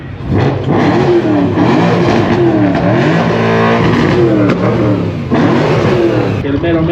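Loud cars at Alberta's loudest car show rev their engines hard in sustained, rising and falling roars close by, with people talking under the noise.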